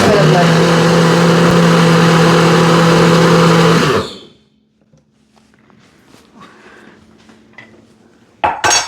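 A NutriBullet blender roars steadily at close range in a home kitchen for about four seconds, then cuts off, leaving quiet room noise and faint clatter before a brief thump at the end.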